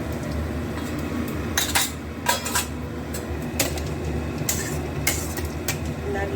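White cumin seeds and spices are stirred in a hot cooking pan, with a spoon scraping and clinking several times over a continuous background hiss.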